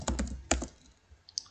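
Quick bursts of computer keyboard typing while coding an HTML form, a cluster of close, crisp keystrokes followed by a couple of lighter taps after a brief lull.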